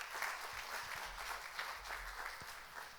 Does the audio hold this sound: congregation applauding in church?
yes